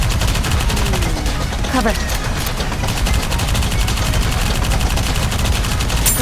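Dense, continuous gunfire from the anime shooter NIKKE Goddess of Victory, a steady loud fusillade of rapid shots running the whole time, with a brief voice line over the battle.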